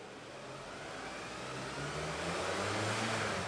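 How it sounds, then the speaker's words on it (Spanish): A spark-ignition car engine idles and then climbs smoothly toward 3000 rpm, a steady hum whose pitch and loudness rise gradually, heard alone. "Vamos a grabar unos 5 o 10 segundos al ralentí. Y luego aceleramos suavemente hasta 3000 revoluciones."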